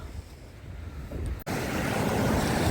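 Sea waves washing onto the shore at Odesa in winter, a steady broadband wash of surf with wind rumble across the microphone, loud and close, with no talk.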